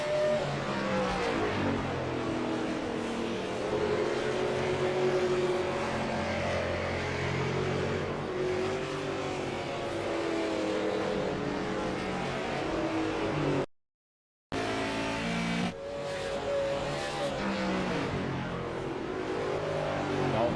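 A race car from the DC Designs SLM Series at IRP roars steadily out of a corner, its engine note sustained and loud before a brief dropout, then resuming.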